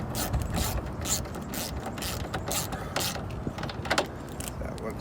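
A ratchet tightens a bolt with a 5.5 millimeter socket on a 2005-2007 Ford Super Duty headlight, giving several quick clicking bursts, fairly faint, with no speech.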